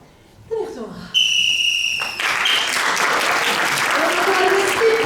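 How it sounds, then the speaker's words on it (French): Audience applause breaks out at an improv match, a dense sustained clatter of many hands that swells quickly and holds steady, with a brief whistle over it and voices mixed in. "On applaudit pour leur improvisation."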